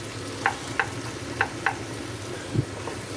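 Pork, carrots and fresh mushrooms sauté steadily in a pan with a low continuous sizzle, broken by four or five light clicks of a utensil stirring.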